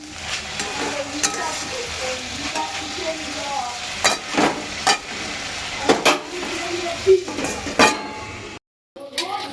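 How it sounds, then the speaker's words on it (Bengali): Potatoes fry in a pan with a steady sizzle, punctuated by close clacks of a spatula or spoon stirring against the pan; faint voices may sit in the background. "আমরা এখানে এখন আলু ভাজা করছি।"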